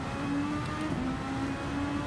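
A race car engine in Gran Turismo 7 holds a steady, droning whine with a sustained tonal hum, fairly loud and continuous throughout, with no voices over it.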